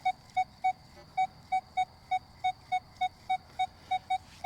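A steady train of short electronic beeps from a metal detector on a shallow target in a park at night, roughly three per second, at a constant pitch over faint background hiss, with no speech.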